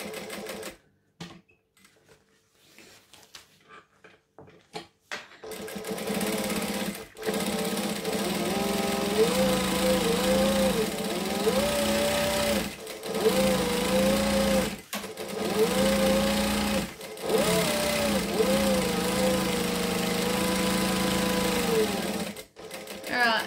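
A sewing machine stitches a vinyl bag strap, near and loud, in bursts of rapid rhythmic clatter separated by short stops, slowing toward the edge with a backstitch; a voice talks faintly under the machine.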